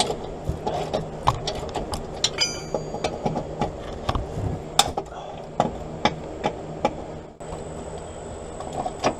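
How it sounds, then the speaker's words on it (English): Half-inch drive ratchet wrench works a bolt while replacing the starter and front motor mount on a 1995 Ford Probe GT, with rapid close metallic clicks in irregular bursts and occasional clanks. "I think this half-inch drive's about done. I think I put it to its limit."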